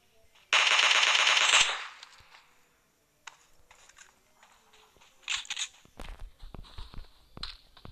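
Automatic gunfire in the shooter game PUBG, a loud, rapid burst of shots lasting about a second, followed by fainter clicks, footsteps and scattered impacts.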